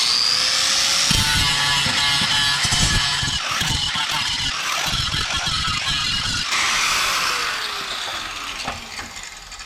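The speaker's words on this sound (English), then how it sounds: "I'll grind that out a little bit." A grinder works over a fresh weld on a part for a Cub Cadet LTX 1042 KW lawn tractor, a loud close whine that rises and falls with repeated rattling bursts as the tool bites the metal.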